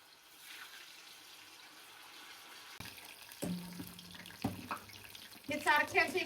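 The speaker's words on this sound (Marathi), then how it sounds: "मी आता हे तेलामध्ये सोडतीये." Vidarbha-style batti dough balls dropped into hot oil: quiet at first, then clunks as pieces go in, followed by bubbling sizzle that grows louder and crackles toward the end.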